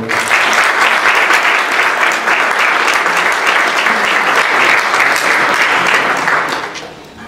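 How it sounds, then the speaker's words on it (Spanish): Loud, dense applause fills a science forum hall for a few seconds before tapering off near the end, with no speech over it. "al cual les pido un fuerte aplauso, por favor"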